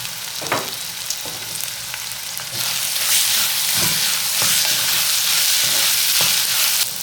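A vegetable pulao with sweet corn is stirred in a pot, with repeated soft scraping strokes over a sizzle that turns louder and denser after a few seconds, heard up close with no speech.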